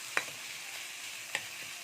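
Radish greens fry in a pan with a soft, steady sizzle, broken by two quick scraping stirs.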